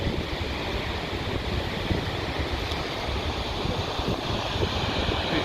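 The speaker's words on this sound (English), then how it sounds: "These are the falls in Iceland." Steady roar of a waterfall in Iceland, broad rushing water noise with some wind buffeting, constant and moderately loud with no voices.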